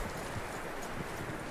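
Horse hooves clip-clop steadily in Red Dead Redemption 2, a continuous, evenly paced trotting rhythm close by with no voices over it.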